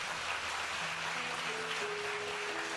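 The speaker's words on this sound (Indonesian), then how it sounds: "Kita berikan tepuk tangan buat Tuhan." A church congregation applauding, broad dense clapping that continues steadily throughout, with sustained organ or keyboard notes underneath.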